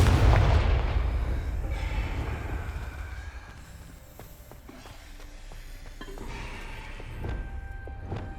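A Confringo blasting spell explosion in Hogwarts Legacy, a loud booming blast at the start that decays into a long rumbling tail with scattered clicks and faint effects.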